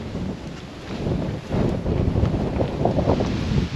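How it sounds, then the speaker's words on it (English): Gusty wind blows across an open country park hillside on a campsite, roaring and buffeting the microphone in a steady rush that swells louder after the first second and a half, with no talk. "Here comes the wind again."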